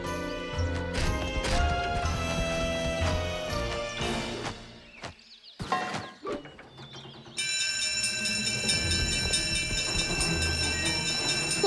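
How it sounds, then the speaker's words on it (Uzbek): An animated train approaches a closed level crossing amid cartoon music, with clattering crashes midway, a brief lull, then a bright sustained bell-like ringing and rhythmic rolling rising loudly. "U yo'lni yopyapti, chunki poyezd yaqinlashyapti."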